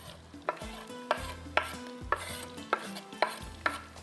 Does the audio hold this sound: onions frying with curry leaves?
yes